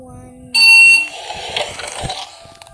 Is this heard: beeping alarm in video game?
yes